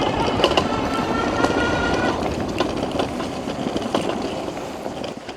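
Zonveer ZX3 electric dirt bike straining at full throttle on an off-road climb at about 9 mph, heard as a continuous loud whine and rattling rumble with constant clattering and wind noise.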